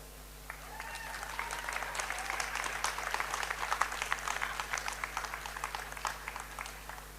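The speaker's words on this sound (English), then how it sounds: "Clap for that." Audience at a global forum applauds, brisk clapping swelling after a moment and staying steady, moderately distant, over a low constant hum, with a brief voice at the start.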